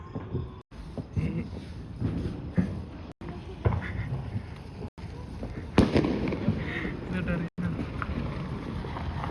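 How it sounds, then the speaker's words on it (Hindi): Firecrackers and rockets burst outdoors during Diwali celebrations, with scattered cracks and bangs over a steady background of wind noise and crowd murmur, several sharp pops rising above the din. "हीरो बम इनका बम फेंकूंगा"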